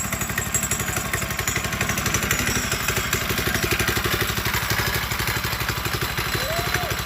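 A 212cc engine on a pit bike converted into a trike idles steadily with a rapid, even low thump and a light mechanical clatter, close and constant throughout.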